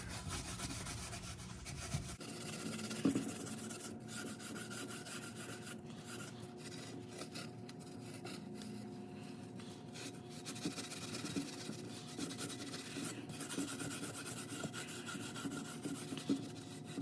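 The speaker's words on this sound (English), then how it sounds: "now we're just gonna Scotch Brite the mating surface real quick" A Scotch-Brite pad scrubbing the metal mating surface on an E36 BMW during a manual transmission swap, steady close rasping strokes repeating for most of the time, quiet and alone.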